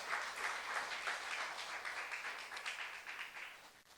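A church youth congregation claps during a sermon, a broad, sustained round of applause that holds steady and then thins toward the end, heard quietly at some distance.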